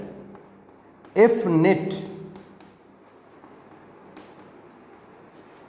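Marker or chalk strokes on a board during a physics lecture on electrostatics and Coulomb's law, a faint scratching set against a short burst of a man's speech, then quiet room tone.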